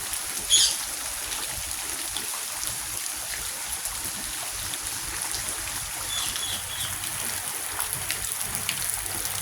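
Rain falls steadily outdoors during Texas flooding, a dense even hiss of drops on surfaces with a brief louder splash near the start and no talking.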